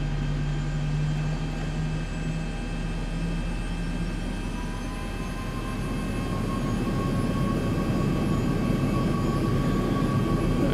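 A simulated airliner taxis at Los Angeles International in X-Plane, its engines giving a steady, continuous drone with a constant whine that swells slightly louder in the second half, and no voices.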